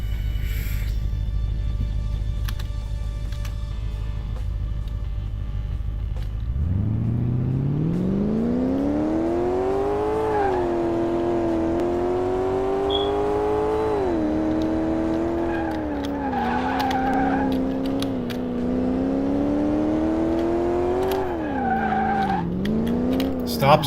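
An FMW Roadster in Car Mechanic Simulator starts up after a few seconds of steady background noise, then its engine revs and climbs through rising and falling pitches as it accelerates, loud and continuous, with tire noise near the end.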